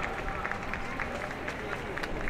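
An audience at a projection mapping awards event in a large exhibition hall applauding a team, a continuous, moderately distant wash of many hands clapping, with voices mixed in.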